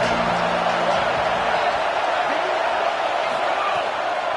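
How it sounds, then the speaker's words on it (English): A loud, dense roar of a large stadium crowd at Happy Valley on third down in a football video game, sustained and steady throughout, with faint voices blended into the wash of noise. "Here comes the noise from this big crowd in Happy Valley on 3rd down"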